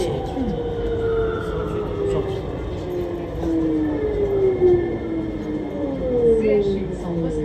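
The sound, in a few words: VAL 208 automated metro train running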